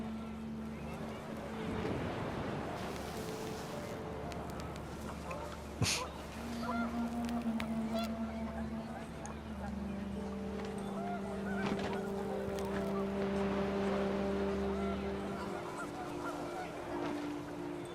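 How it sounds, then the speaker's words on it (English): Panicked geese honk in the video game What Remains of Edith Finch as the wind picks up, a flock calling repeatedly at middle distance over a steady low rumble. "The wind picked up, and panicked geese appeared and quickly went."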